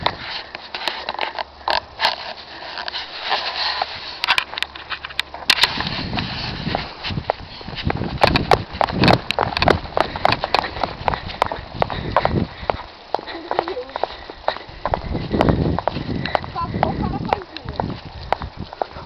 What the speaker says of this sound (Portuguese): Olha os meus vizinhos, cavalo.